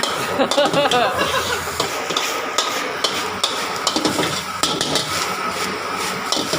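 A metal spatula scrapes and clanks against a wok in quick, repeated strokes over steady sizzling and busy kitchen noise.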